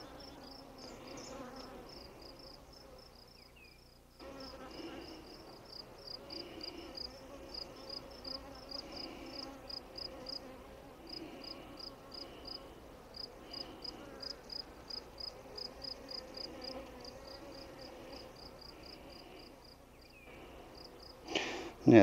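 A soft, continuous buzzing of many queenless honeybees fills the background, with a steady pulsing hum throughout and no talking.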